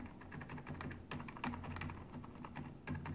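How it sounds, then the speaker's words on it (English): Rapid typing on a Corsair Strafe mechanical keyboard, a close, continuous clatter of individual keystrokes in quick irregular bursts, with no voices. "That's the exact sound that I want to hear from the keyboard"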